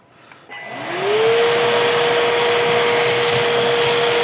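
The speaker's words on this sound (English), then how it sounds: "this is just a normal everyday vacuum cleaner" A vacuum cleaner switches on and spins up to a loud, steady whine with a constant tonal hum, running continuously up close while cleaning an espresso machine.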